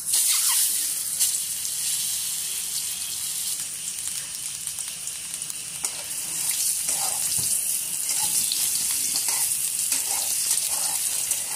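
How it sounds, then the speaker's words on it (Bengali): Two eggs fry in hot oil seasoned with turmeric and chili powder in a kadai, giving a continuous hissing crackle close by, with no talk. "দেওয়ার পরে আমি এখানে ডিম দুটো ভেজে নেব।"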